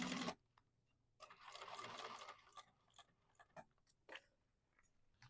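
A sewing machine basting fabric for a bag: a sharp burst, then a run of fast mechanical stitching, followed by scattered clicks and short clacks of the mechanism, close and fairly quiet.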